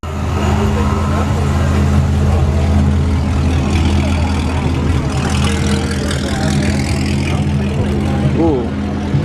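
Turbocharged car engine running loud and steady in the foreground, holding a continuous low rumble with a rising whine, while people talk nearby.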